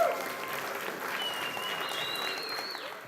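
An audience at a children's language talent contest claps in a steady sustained wave, with faint whistles and cheers rising above the applause near the end.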